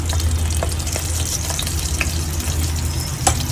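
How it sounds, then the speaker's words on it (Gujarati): Mustard seeds and cumin frying in oil over a low flame, a steady close sizzle with scattered small pops and crackles throughout, a sharper pop near the end. "થોડીક આની અંદર આપણે નાખશું રાઈ પછી પછી નાખશું આપણે જીરું"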